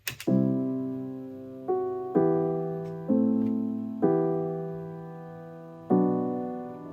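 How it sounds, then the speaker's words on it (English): A soft, slow piano phrase of single notes and chords, each struck gently and left to fade before the next. "So, first piano sounds like this."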